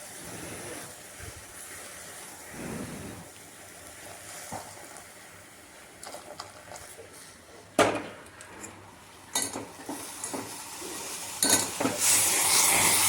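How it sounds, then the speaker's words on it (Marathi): A pan of tea with milk bubbles and hisses at a steady simmer, growing louder and more vigorous toward the end, with a few sharp pops and no speech. "हे असा चहा उकळताना पाहायला कोणाकोणाला आवडतो"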